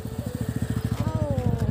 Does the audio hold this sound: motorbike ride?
yes